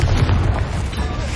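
A loud, deep booming blast from a Confringo spell in Hogwarts Legacy, its low rumble strongest at the start and then rolling on steadily.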